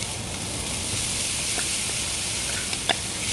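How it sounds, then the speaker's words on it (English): Frozen cauliflower sizzles and crackles steadily in a hot, wide wok as it is stirred, with a few faint scrapes and clinks of a utensil against the metal. "so you can kind of stir your frozen cauliflower up and let it cook on the sides"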